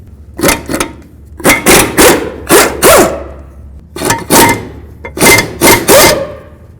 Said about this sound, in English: let's continue on to removing our caliper bracket bolts.